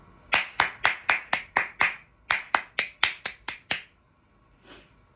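Hands clap in two quick runs of sharp, close, evenly spaced claps, about seven then six, separated by a short pause, followed by a faint soft sound.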